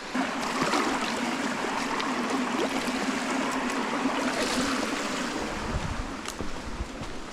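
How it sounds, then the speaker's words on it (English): Water splashing and trickling steadily at close range as it is poured for washing the face at a campsite on a solo overnight hike, a continuous wash of sound with no talking. "I need to wash my face."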